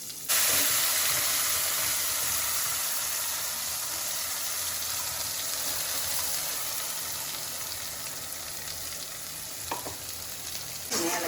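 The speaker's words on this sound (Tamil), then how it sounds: "கடுகு போட்டிருக்கேன்." Mustard seeds crackle and sizzle steadily in hot sesame oil for a spicy Andhra-style dosa chutney, a dense continuous frying hiss that starts abruptly and holds loud, easing slightly, with a few sharper pops near the end.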